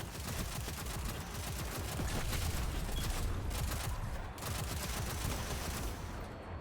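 A machine gun fires in a video game during a solo Zero Hour mission against leftover enemies, a dense, sustained rattle of rapid shots that stays loud and continuous with only slight dips.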